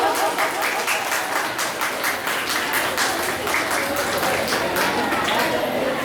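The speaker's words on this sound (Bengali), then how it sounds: "একটু জোরে করতালি দিতে বলবো।" An audience applauds at an art centre event in Sodepur, dense steady clapping from a crowd that carries on throughout without a break.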